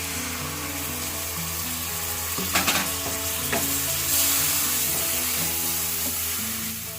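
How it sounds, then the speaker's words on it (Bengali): Spice paste with ground cashew frying in a pan for Bengali doi katla (fish in yogurt gravy) while a spoon stirs it. A steady close sizzle runs throughout, with louder scraping stir strokes near the middle and no talking. "অনেকক্ষণ ধরে নাড়াচাড়া করে মশলাটা ভাজা হয়েছে। এর মধ্যে কাজু বাটাটা"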